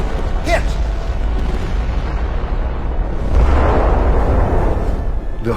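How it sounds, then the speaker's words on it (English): HMS Hood's magazine explodes in a deep, roaring blast that fills the whole moment with dense rumbling noise, swelling louder midway and staying heavy to the end. "The explosion breaks the ship's back."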